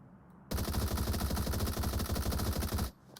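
Sustained automatic rifle fire in the shooter game PUBG Mobile: one rapid burst of about two and a half seconds, loud and close, with evenly spaced shots and no talking.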